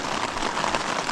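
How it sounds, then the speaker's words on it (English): Steady rain falling on a tent during a backpacking trip in Kakwa Provincial Park, a dense, even patter close by with no voices. "it's raining out"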